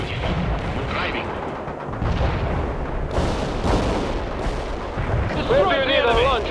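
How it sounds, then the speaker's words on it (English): Cluster bomb strike in the World in Conflict strategy game, a dense rumble of blasts and crackling gunfire beneath frantic radio chatter and shouted voices, with bursts swelling through the middle and end. "Cluster bombs are armed."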